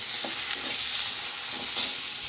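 Chopped onions hit hot oil in a pan during preparation of a jackfruit and yogurt curry, giving a loud continuous sizzle with a few soft stirring knocks and no talk.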